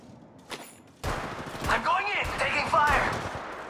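Gunfire in the Apex Legends battle royale game: a sudden burst of rapid shots begins and continues as a dense, loud fusillade with metallic whines, while a voice talks over it.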